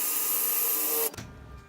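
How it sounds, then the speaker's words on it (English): A power drill whines steadily as it cuts through the metal skin of an RV fireplace, then stops abruptly after about a second, leaving a short low rumble. "Now you're going to get the drill and drill it"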